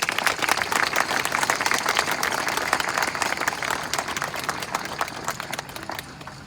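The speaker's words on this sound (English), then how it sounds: "We should give him a round of applause." A crowd applauds Walter at a Memorial Day ceremony at Floral Haven, steady dense clapping that carries on for several seconds before tapering slightly.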